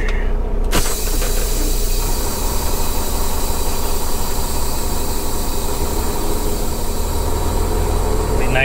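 A parked truck's engine idles steadily in a low continuous rumble with faint hiss, starting after a brief sharp knock near the start, and no talk over it.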